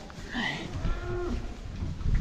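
Spring calving cows heading out onto long lush grass low and moo with drawn-out calls, fairly close and clear over a steady outdoor background rumble.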